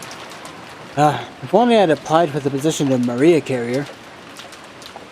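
Steady rain falls in a rose garden in the visual novel Umineko, a soft continuous hiss that runs under a voice talking through most of the stretch.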